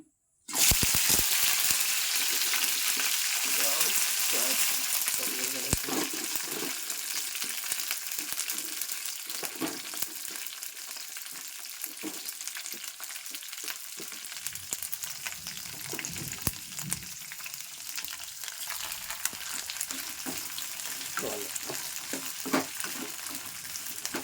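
Green chillies frying in oil in a pan, a steady close sizzle with scattered crackles and spatters and occasional stirring scrapes, continuing without pause.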